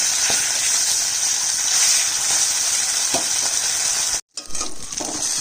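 Fish turned onto its other side sizzles loudly in hot mustard oil, with light stirring clicks over the hiss, broken by a short silent cut before quieter frying resumes.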